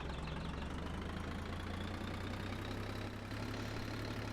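An RV engine in third gear in the Roblox game RV Cooked hums in a steady low continuous drone with no talk.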